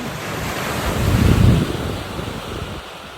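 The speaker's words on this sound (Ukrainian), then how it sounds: "море шумить" Sea surf washing in at Paphos, Cyprus, a broad rushing roar that swells to a peak and recedes, with wind buffeting the microphone throughout.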